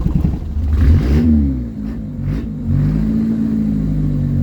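Peugeot 205 TD diesel engine with a fully forged, prepared build, revving at full throttle: a loud, close engine roar rising and falling in pitch, then holding steady.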